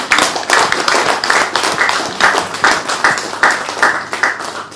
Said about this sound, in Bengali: আমরা জোরে একটা হাত তালি দিই।